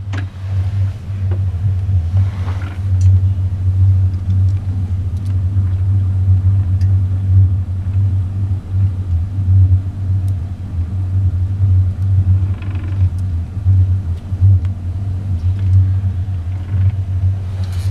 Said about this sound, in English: That's a startup video on a 24 foot Sea Sport with a 300 horsepower Yamaha outboard running on it.